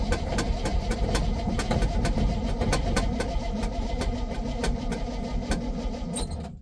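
The starter cranks the engine of a 1966 GMC pickup truck in rapid, rhythmic turnovers without catching, a steady mechanical churning close by that slows and cuts off at the end.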